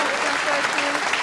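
A snooker crowd applauds during Mark Selby's 147 break, with dense, sustained clapping throughout. A commentator's voice can be heard faintly under it.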